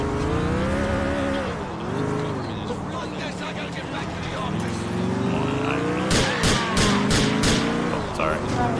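Car driven on two wheels in GTA IV, its engine revving and swelling up and down in pitch, then a burst of harsh scraping crashes near the end, with voices talking over the engine throughout.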